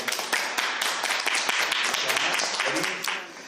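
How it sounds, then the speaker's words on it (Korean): A church congregation breaks into applause, with many hands clapping in a dense, steady patter through most of the moment. A voice speaks over it. "우리 하나님께 감사와 박수 올려드립니다"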